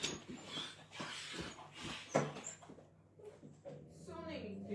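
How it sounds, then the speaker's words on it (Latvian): Dog with thick winter fur caught in a door whimpers and whines in short bursts, close by, mixed with a person talking over it. "piedodiet, man suns iesprūd durvīs."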